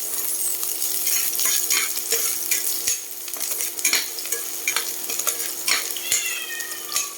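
Small-chopped and large-cut onion going in after a little garlic in a pan, sharp crackling sizzle with spatula stirs and clinks, while a house cat meows intermittently close by.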